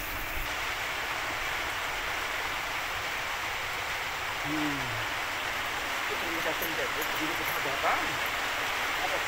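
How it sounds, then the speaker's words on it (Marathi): Steady rain falls continuously at close range, a broad even hiss that fills the whole stretch with no break, while a few faint clinks and light background sounds come and go. "पाऊस 5 वाजल्यापासून पाऊस लागलाय"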